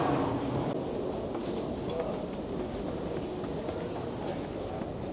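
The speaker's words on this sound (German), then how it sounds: "Da kommt unsere Bahn. Sie fährt übrigens autonom." An autonomous airport train pulls in at Munich Airport, its steady mechanical rumble and rolling rail noise filling an indoor station, heard at moderate distance with a faint voice underneath.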